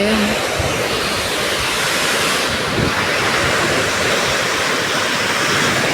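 Sea waves at a crowded beach, a loud continuous roar of surf mixed with wind buffeting the microphone, steady from start to finish with no voices.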